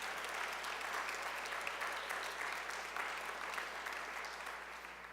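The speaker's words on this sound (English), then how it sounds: "Elaine, Allison, Lorraine, and Josh, a round of applause for those folks." Steady applause from a sizable audience at a farewell reception and dinner, sustained clapping throughout that fades slightly toward the end.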